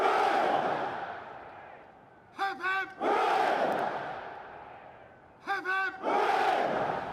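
At Buckingham Palace, after a royal salute, a large crowd gives repeated roaring cheers; each sustained swell of voices follows a short shouted lead call, in a rising and falling rhythm.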